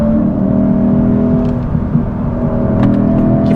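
The naturally aspirated engine of a 2024 Lexus IS 500 revving hard under acceleration, a loud sustained droning roar heard close up from inside the car, without talk.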